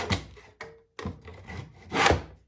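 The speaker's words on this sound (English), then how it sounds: "all I do is saw back and forth" A handsaw cutting wood for a simple wooden doll: a few rasping back-and-forth strokes, close and fairly loud, with brief pauses between pushes and one stronger final stroke.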